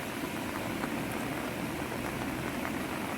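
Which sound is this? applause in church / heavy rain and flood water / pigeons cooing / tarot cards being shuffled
heavy rain and flood water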